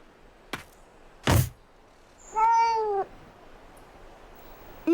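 A cartoon cat lets out one drawn-out, wavering meow, preceded by two sharp knocks or thuds and followed by a short cry that starts just as the sound cuts off.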